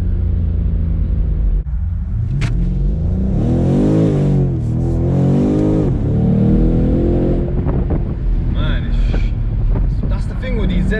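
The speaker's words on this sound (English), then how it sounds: "At least you can hear the engine." A 2020 BMW M850i Cabriolet's engine pulls hard through the gears of its ZF gearbox, a loud, continuous rising and falling drone close up with wind rush, while people talk over it.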